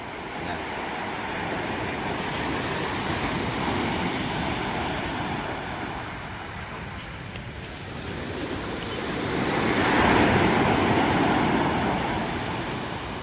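Large ocean waves roll onto the shore at a fish terminal in Julugan, Tanza, Cavite, making a continuous loud surf roar with wind noise that swells toward a peak later on.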